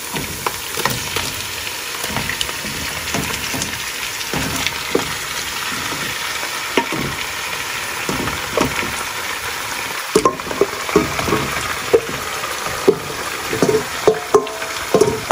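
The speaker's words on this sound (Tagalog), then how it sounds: "Pwede na nating ilagay ng ating minarinade na karne." Marinated pork, along with its marinade, hits a pan for Filipino pork adobo and fries with a steady close sizzle, broken by intermittent stirring clatter and scraping, with no talking.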